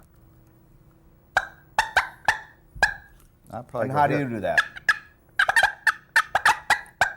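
A mouth call imitates a turkey with sharp, rapid cutting clucks in bursts, broken by a short rolling yelp, while a person speaks briefly.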